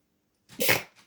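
A single person's sneeze, sharp and close, with a short breathy intake before the burst and a faint trailing exhale after, alone in an otherwise quiet room.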